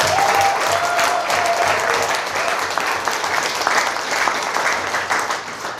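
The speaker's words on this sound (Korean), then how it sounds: "박수도 한번 나오고 그래야 되는데" A lecture audience at a laughter-therapy talk breaks into steady, full applause lasting several seconds, with a voice faintly audible beneath the clapping.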